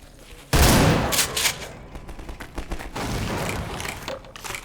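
Loud video game shotgun blasts go off while head crabs are being killed, opening with a sudden heavy burst followed by further rough gunfire and booms. No one speaks.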